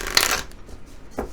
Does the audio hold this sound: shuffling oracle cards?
yes